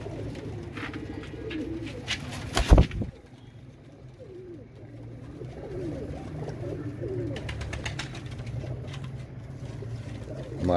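Salare Royal Teddy pigeons cooing, soft low coos under traffic and engine noise in the background, with a loud clattering burst early on.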